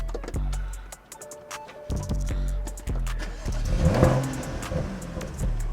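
A BMW M135i engine cranks and fires up close by, catching with a sudden loud burst, settling briefly, then rising in a throaty rev before idling.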